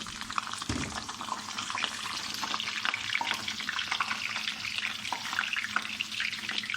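Chopped turnips hit hot oil in a pan and give a dense, hissing fry. The sizzle is steady and moderately loud with faint clatter, and nobody speaks over it.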